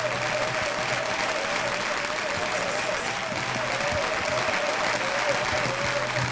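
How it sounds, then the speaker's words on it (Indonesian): A small group claps at length, a steady, dense wash of hands with a faint voice and humming tone underneath. "Lama aja tepuk tangan."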